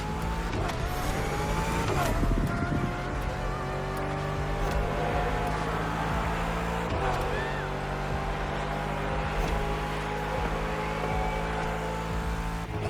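Racing car engine from the video game The Crew, loud and continuous with revving, accelerating and shifting pitch throughout, brief tire squeal in places, steady and close with no pauses.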